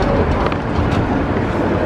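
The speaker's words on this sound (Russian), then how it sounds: "Все, приехал наш поезд." A train pulling into a station platform in Korea, a loud steady rumble of rolling wagons running through the moment with no talk over it.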